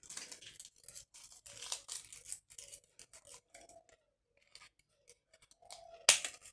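Scissors cutting paper roses for a Father's Day gift, a series of quiet crisp snips and rustles close to the ear, ending in one sharp louder snip.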